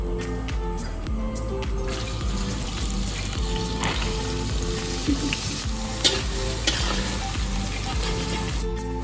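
Chopped ginger and garlic sizzle loudly in hot oil previously used to fry chicken, with a steady close frying hiss and occasional stirring clatter.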